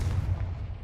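Confringo explosive spell from Hogwarts Legacy, a single deep, heavy blast that booms close and loud and then rumbles away quickly.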